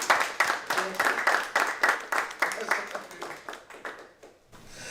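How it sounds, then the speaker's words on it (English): Scattered hand clapping from an audience at a community talk series, a steady patter of claps that thins out and fades near the end, with voices murmuring underneath. "we give them a round of applause for all the work that they do"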